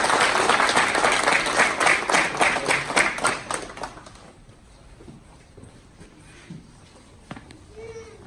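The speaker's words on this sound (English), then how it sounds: "please join us in a round of applause" An audience claps at a military AIT graduation ceremony for a corrections and detention class, loud dense applause with scattered sharp claps that fades out after about four seconds, leaving a quiet room with faint voices.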